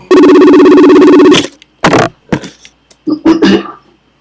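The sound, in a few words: FaceTime call ringing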